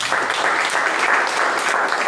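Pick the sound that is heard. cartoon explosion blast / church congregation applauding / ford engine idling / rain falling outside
church congregation applauding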